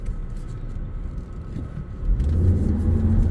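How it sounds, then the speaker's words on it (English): Five-cylinder turbocharged engine of a 2012 Volvo C70 T5 hatchback pulling under acceleration, a steady close rumble inside the cabin that swells noticeably louder partway through as the revs climb, with no talking. "This is that same 5-cylinder turbo engine that you see in S40 T5s and such."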